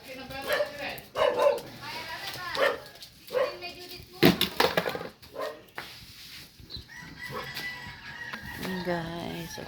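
A dog barks in short bursts nearby, a few sharp yaps scattered among people talking and clucking chickens in the background.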